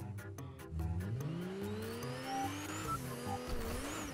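A video game car drives into a reboot card, its engine rising in pitch as it accelerates, with brief tire squeal and a few sharp knocks at the start, loud and close.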